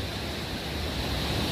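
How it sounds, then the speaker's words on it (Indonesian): Surf and wind at Holtekamp beach in Jayapura make a steady, loud broadband wash that holds evenly through the short moment, with no voices. "Saya ada di Pantai Hall ini"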